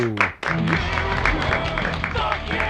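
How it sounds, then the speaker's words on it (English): An audience breaks into a round of applause, a dense wash of clapping heard under a loud voice talking over it throughout. "Let's get a round of applause"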